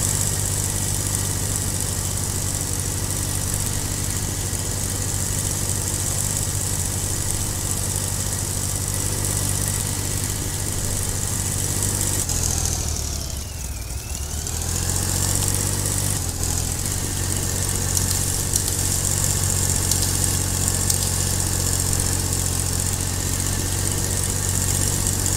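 A tractor engine in the video game Farming Simulator 22 drones at a steady idle with a constant mid-pitched hum, dipping briefly midway before returning to the same even running sound, with no voices.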